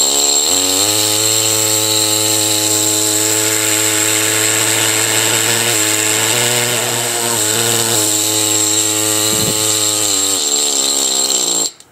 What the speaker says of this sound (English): Anyways, this big chisel jack,